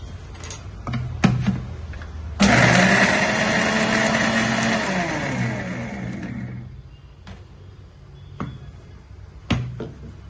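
A kitchen mixer grinder whirs loudly for several seconds as it blends curry leaf chutney with added peanuts, starting abruptly and winding down, with quieter clicks and handling noises before and after.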